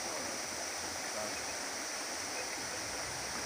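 Water rushes at a waterfall and stream, a steady, even wash of flowing water that stays soft and distant throughout, with no other sounds standing out.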